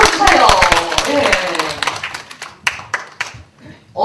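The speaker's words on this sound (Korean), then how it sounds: "박수 좀 크게 좀 쳐주세요" Audience clapping at a children's playground safety talk, a burst of claps that thins out into scattered last claps and fades within a few seconds.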